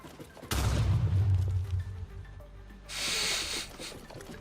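Explosions go off in the factory-building game Satisfactory, with a loud burst of booming rumble and hiss that fades, then a second bright noisy blast a couple of seconds later.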